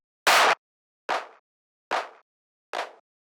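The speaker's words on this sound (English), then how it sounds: "The way it's made, it's two claps layered together." Dry techno snare built from two layered claps, struck four times at a steady, even pace with silence between, each hit short and crisp with no reverb tail.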